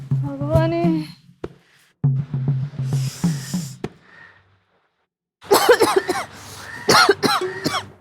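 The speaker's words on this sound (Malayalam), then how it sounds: "ഇതടി ഒരു ചുമ" A person coughs in a few harsh bursts, close and loud, mixed with voiced throat sounds and pauses, followed by a longer stretch of near, breathy vocal noise.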